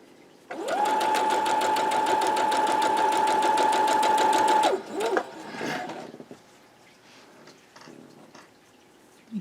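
A sewing machine chain-pieces quilt block pieces, running in one loud continuous whirring burst of about four seconds that stops abruptly, followed by fabric handling and light clicks.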